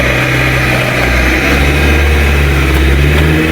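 A car engine is started again and revved, a loud, steady mid-to-low engine drone held close throughout with slight rises in pitch.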